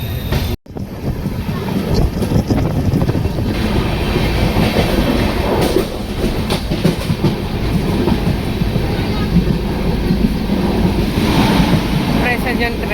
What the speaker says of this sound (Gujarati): આપણી ટ્રેન નીકળી ગઈ છે મિત્રો